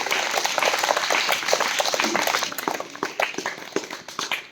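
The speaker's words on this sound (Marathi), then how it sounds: "आता एकदा स्वतःसाठी छान टाळ्या वाजवा तुम्ही पाहिजे" An audience at a motivational talk claps for themselves, a lively burst of many hands applauding close by, sustained for several seconds and thinning out toward the end.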